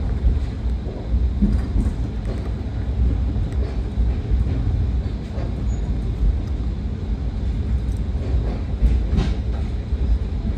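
A passenger train on the Kolkata to Balurghat route rumbling as it pulls away from Rampur Bazar station, a steady low clatter and roar heard from on board, continuous with faint rattles and no talk.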